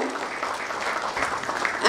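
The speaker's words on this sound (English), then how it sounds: "Can you please have a huge round of applause for sir?" An audience at a doctor-patient network event gives a short burst of applause for a guest, a dense wash of clapping over about two seconds that swells slightly at the end.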